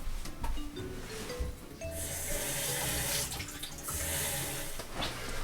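An apple is rinsed under a running kitchen tap, a steady broadband rush of water that thickens and brightens midway, with handling clatter at the start and no talk.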